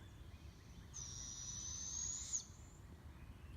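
An owl gives a single sustained high call lasting over a second, faint and somewhat distant over low rumbling background noise, with no talking.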